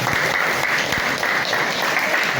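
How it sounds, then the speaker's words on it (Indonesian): A primary-school class claps together for a pupil's correct answer, a dense, lively patter of many small hands that stays loud and even for a couple of seconds. "Tepuk tangan."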